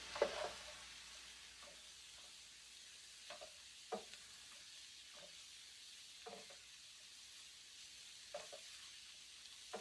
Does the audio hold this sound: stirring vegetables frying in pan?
yes